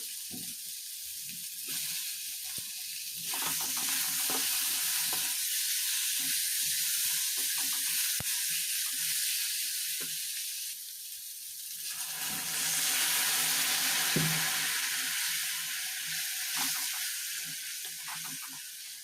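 Tomatoes fry with masala in a pan for a village-style Odia fish curry, giving a steady loud sizzle and hiss that swells twice, with soft stirring clicks and no talk.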